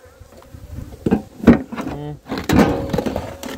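Honeybees buzz densely around a crowded nucleus hive at season's end, a steady droning swarm with some thumps and handling noises close by.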